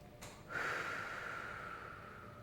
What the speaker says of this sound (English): It is taking a deep breath in.